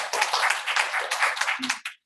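An audience claps at a ragtime band concert, a dense burst of many hands that holds steady, then thins with a few last claps before cutting to silence.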